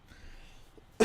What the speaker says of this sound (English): please excuse the coughing